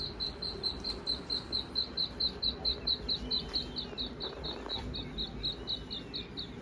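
Partridge, quail and peacock chicks playing together in the dirt of a mini zoo chirp in a fast, even series of sharp, high peeps, about three per second, over a low background hum.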